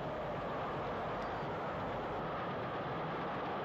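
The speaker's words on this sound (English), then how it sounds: "West Country Class 34100 Appledore brings the down Golden Arrow slowly through Paddock Wood on that day" West Country Class steam locomotive 34100 Appledore hauling the down Golden Arrow slowly through Paddock Wood, a steady, muffled rumble of train running with no distinct chuffs, continuous and moderately distant.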